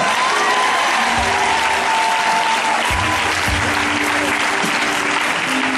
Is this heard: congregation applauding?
yes